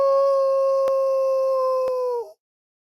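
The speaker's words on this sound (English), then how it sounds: "he howled into the skies" A single long werewolf howl, produced as an audiobook sound effect, holds a steady, clear pitch for about two seconds before tapering off abruptly into silence.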